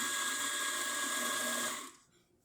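A serviced Eureka XL coffee grinder runs close and steady, a loud whine grinding beans fine, then cuts off abruptly near the end as the motor winds down to quiet.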